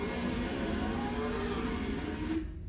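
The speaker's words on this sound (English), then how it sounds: "Here's a real car going around the circle." A real car circling a round course gives a steady, fairly loud engine drone with a broad road and tire hiss that holds evenly for over two seconds before cutting off abruptly.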